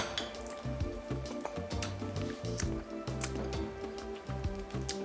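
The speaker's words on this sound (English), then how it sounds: "Squish them tomatoes a little bit." Tomatoes squished in vinegar inside a jar, with soft wet squelches, drips and small liquid pops in an uneven rhythm, heard close and fairly quiet under a steady low background tone.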